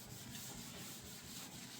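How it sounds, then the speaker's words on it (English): A sponge scrubs around the rim and side of a kitchen counter, giving a steady, continuous rubbing swish that holds at an even, fairly quiet level close to the mic for the whole stretch. "I go around the rim here, scrubbing, getting everything off of here."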